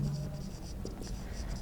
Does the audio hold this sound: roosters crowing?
no